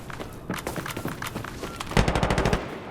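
A bipod-mounted machine gun in Insurgency: Sandstorm fires a series of quick shots over a background of game noise and movement, then a louder, denser burst of rapid fire.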